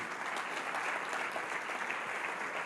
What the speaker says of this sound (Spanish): Yo le doy un fuerte aplauso al Señor Jesús.